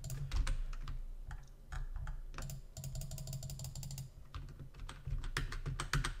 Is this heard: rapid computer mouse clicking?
yes